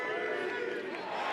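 A stadium crowd at a college men's lacrosse game between Virginia and Maryland at Klockner, roaring and cheering in a sustained wash of noise, with a commentator talking over it.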